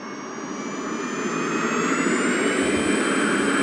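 Fighter jet engine spooling up for takeoff from a runway in the Joint Strike Fighter flight game, a loud steady roar with a rising whine that builds in intensity, alone without voices.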